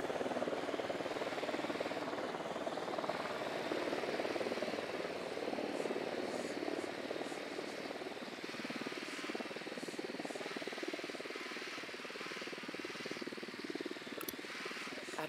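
A patrol helicopter in the video game Ghost Recon Wildlands flies overhead, its rotor making a steady, dense whir that continues at an even loudness for the whole stretch, with no talking.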